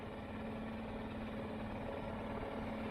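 A Stihl BR800CE backpack blower engine holds a steady high idle, a continuous close droning hum with an even buzz, unbroken and alone for the whole stretch.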